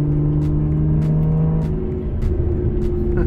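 An Aston Martin Vanquish engine drones steadily and loudly, its pitch holding then shifting slightly as it revs, with no talking.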